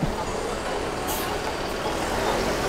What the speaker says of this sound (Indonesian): Ini baru tiba bis Bintang Kejora dari Sumatera Barat.